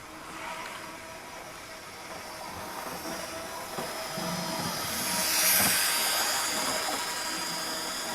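Model railway trains running on track, a steady hissing whir with faint rumbling clicks that swells a little midway, no voices.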